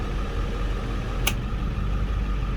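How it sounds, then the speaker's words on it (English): A steady, droning bus engine idle, loud and close, with a brief click partway through as high idle engages and the rumble holding constant afterward. "You hear the engine cut down, idle up."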